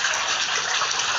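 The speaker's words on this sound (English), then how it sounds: "It was a pretty bad water main leak, as you can see." Water pours hard from a burst water main in an apartment area, flooding out the sidewalk. It makes a steady, loud, broadband rush that holds without a break for about a second, with no one speaking.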